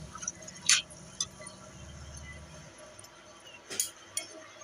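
Spiced potatoes with turmeric and Kashmiri red chilli powder stirred in a pan, giving a few sharp metallic clinks of the spoon against the pan and soft scraping, close and fairly quiet.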